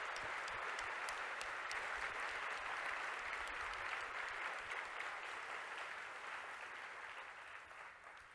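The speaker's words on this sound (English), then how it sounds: "Let's give them a huge round of applause," Sustained applause from a large audience at a cloud native computing conference opening session, a dense steady wash of clapping that holds for several seconds before gradually fading toward the end.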